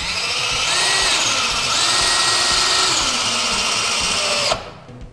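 A power drill drives a Kameleon composite deck screw into gray PVC decking board, a loud, close, sustained motor whine that shifts pitch under load for about four and a half seconds, then cuts off abruptly, with no talking.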